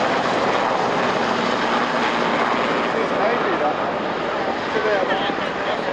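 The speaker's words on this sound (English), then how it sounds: "Sea-King search and rescue aircraft in the colours of the Bosnia campaign." A Sea King search and rescue helicopter in Bosnia campaign colours at an Army Air Corps airshow at Middle Wallop, a steady loud rotor and engine roar throughout, with a crowd and announcer faintly underneath.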